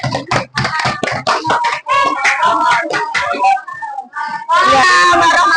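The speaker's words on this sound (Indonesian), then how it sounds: "Tepuk tangan untuk kelompok 2." Children clapping for a group after a class presentation, scattered sharp hand claps mixed with children's voices, then a louder burst of clapping and cheering at the end.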